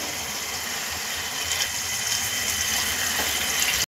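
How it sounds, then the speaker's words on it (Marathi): Cooked mutton with its stock pours from a pot into the oil-rich masala for a dhaba-style mutton curry, a loud, steady close gush of liquid that cuts off abruptly. "आता आपण जे त्यात मटण शिजवून घेतलं होतं ते आपण टाकून घेऊया"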